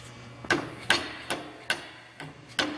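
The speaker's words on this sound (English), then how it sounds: "Use a rubber mallet or a plastic one." A mallet taps plastic caps onto the handle of a carcass cart during assembly: six short, sharp knocks at an uneven, unhurried pace, close and fairly quiet.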